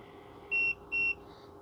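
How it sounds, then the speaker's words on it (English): Two short, clear electronic beeps in quick succession from a portable espresso machine finishing, evenly spaced, over a faint background hum, followed by a softer tail. "it just beeped to let us know it's done"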